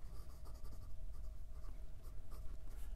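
Close, faint scratching of a Jonathan Brooks Leonardo Momento Zero Grande fountain pen nib moving across paper, a continuous soft scritch with slight toothy feedback over a few seconds.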